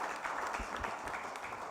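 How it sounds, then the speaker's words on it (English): An audience at a corporate conclave applauds, making a faint, steady wash of many hands clapping that sounds distant and continues for the whole moment. "Let's give a round of applause for the"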